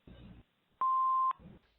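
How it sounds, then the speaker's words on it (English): A single clean electronic tone from an answering machine, loud and steady for about half a second, set between faint murmurs on the line. "Please leave your name and phone number after the beep"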